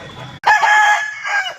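A rooster offered for sale at a pet shop in Kumbakonam lets out one loud, close crow, sharp at the start and drawn out, after a brief low murmur.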